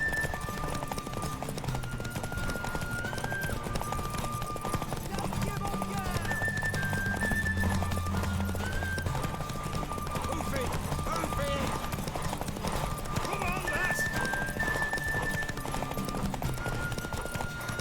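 Horse hooves clip-clop steadily in the open world of The Witcher 3 video game, with an occasional whinny, set under game music and character dialogue throughout.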